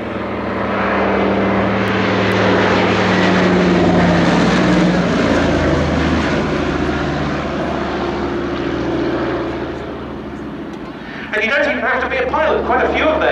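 A historic flying boat's propeller engines drone loudly and continuously at the Shuttleworth Fly Navy airshow, the sound easing slightly and then swelling again while a commentator talks over it.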